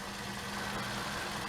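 A Briggs and Stratton small engine with a carburetor still needing adjustment runs steadily at idle, a faint continuous low hum with a steady drone and no talking.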